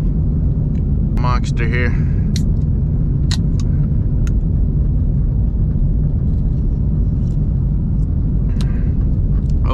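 A Ford Mustang with a newly installed driveshaft cruises smoothly with a steady, loud low engine drone and road rumble from inside the cabin, as someone talks over it and faint clicks and squeaks come and go.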